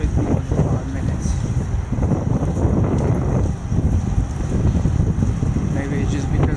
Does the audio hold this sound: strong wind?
yes